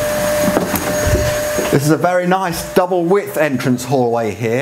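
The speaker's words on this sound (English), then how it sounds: "has got to carry on with doing the vacuum cleaning because we're short of time" Vacuum cleaner running steadily in a double-width entrance hallway of a terraced house in Barmouth, a broad drone in the background under someone speaking close to the microphone.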